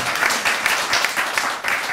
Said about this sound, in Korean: 박수 한번 치시죠. 당원들만.